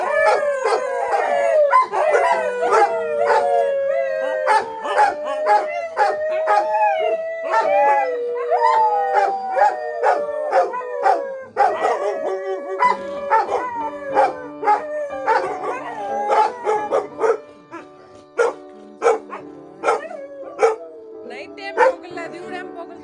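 Several dogs at Stone Valley Resort in Sakleshpur howl in long, wavering rising notes mixed with yips and sharp barks, close and loud, the chorus thinning into scattered barks toward the end.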